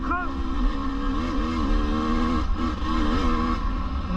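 A 2024 KTM 250 EXC two-stroke dirt bike, just out of break-in, idles and warms up with a buzzing, wavering engine note and small blips of revs, with a voice talking over it.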